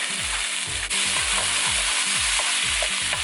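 Garlic sautéed with softened peppers and onions in a hot pan sizzles steadily while a utensil scrapes and stirs in a regular repeating rhythm, close and fairly loud with no voices.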